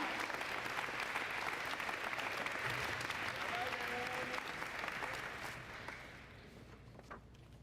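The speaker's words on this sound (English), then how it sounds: "Let's give one big round of applause again for high school baseball and Coach Sanchez." A crowd at a high school spring sports awards ceremony applauds steadily, dense clapping that carries on for several seconds before gradually tapering off.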